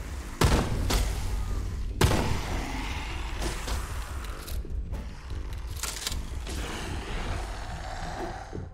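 Gunfire in the zombie shooter Dead Frontier 2, a couple of sharp loud shots followed by further bursts of firing amid noisy game action.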